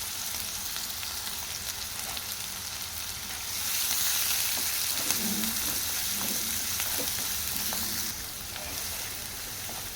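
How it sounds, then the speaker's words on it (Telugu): Onions with garam masala fry in a pan, making a steady close sizzle that swells louder through the middle and then settles, with faint stirring sounds underneath and no speech. "గరం మసాలా ఆనియన్ చేసుకొని ఫ్రై చేసుకుందాం"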